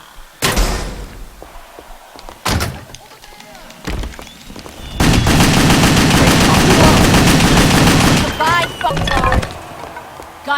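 Shotgun blasts and other gunfire in the action video game WET, heard as several loud, sharp bursts, a few spaced single shots and then a dense barrage of about three seconds, with no talking over it.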